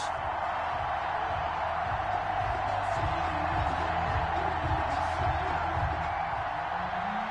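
A stadium crowd in an EA Sports NFL video game ahead of a Buffalo Bills versus Miami Dolphins kickoff, a dense steady roar of cheering that holds constant throughout, with no clear speech above it.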